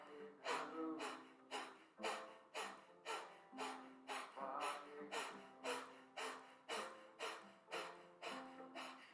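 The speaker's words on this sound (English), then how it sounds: "You can see that there's like a movement that goes on in there with this powerful exhale." Powerful, forceful exhales during a kriya breathing exercise, repeated in a steady rhythm about every seven tenths of a second, each a sharp breathy puff with short inhales between, close and alone.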